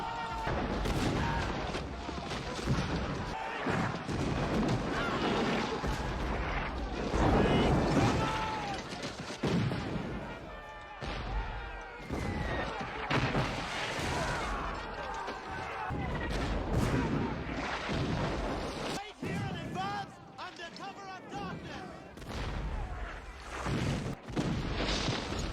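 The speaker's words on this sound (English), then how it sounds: "There's a lot of mortars." Mortar fire in the Civil War film Glory, dense booming blasts and crackling gunfire rolling continuously and loudly, with scattered voices amid the barrage.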